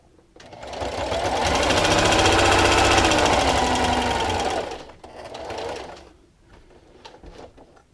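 Sewing machine stitching a fleece blanket, a loud steady motor whir running for several seconds before stopping, followed by a shorter burst of stitching and a few quieter clicks, with no talking.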